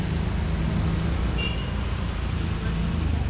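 Road traffic at an intersection in Iloilo, heard from a motorcycle, forms a continuous rumbling wash of engines and road noise, with talk mixed in.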